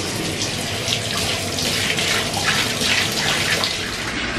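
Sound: bathtub filling from the tap

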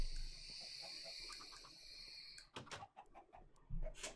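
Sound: chicken clucking in Minecraft video game

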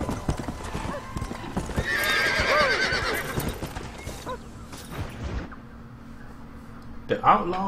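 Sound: horse galloping in video game Red Dead Redemption

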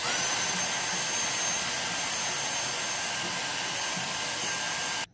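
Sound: vacuum cleaner hoovering inside a PS4 controller

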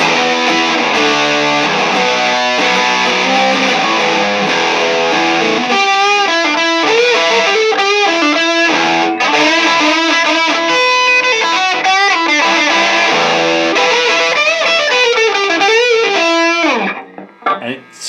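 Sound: electric guitar through distortion pedal at half

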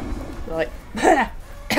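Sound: person imitating a cough

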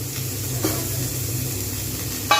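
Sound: cauliflower and vegetables lightly frying in a pan

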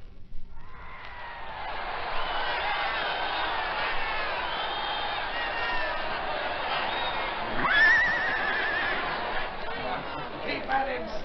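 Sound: bucking horse whinnying at a rodeo show

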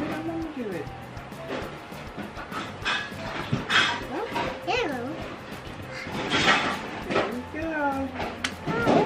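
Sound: toy puppy barking sound from Hatchimals egg toy

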